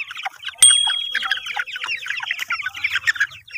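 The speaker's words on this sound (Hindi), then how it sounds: "बस वो बड़ी मुर्गियाँ थोड़ा इनको काटती हैं।" Desi hens and their chicks cluck and cheep in a farmyard, a busy scatter of short, close calls with high peeping chirps, plus one sharp knock near the start.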